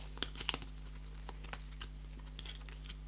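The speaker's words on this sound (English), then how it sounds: "So here we've got the cards. We just give them a little shuffle" A deck of playing cards being shuffled for a tabletop game: soft papery riffles and sharp little clicks, brisk at first and then sparser, heard close against a low steady hum.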